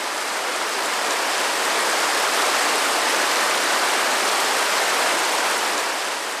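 Pearl Shoal waterfall in Jiuzhaigou, China, with water crashing onto layered rock below: a loud, steady, close roar of rushing white water that continues without a break.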